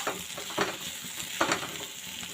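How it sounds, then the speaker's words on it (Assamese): Pork frying in a pan with ginger, garlic and sliced chillies, a soft continuous sizzle with a few louder swells as the spoon stirs, close and fairly quiet, no speech. "অলপ দেৰি মই এনেকৈ ভাজি থাকিম"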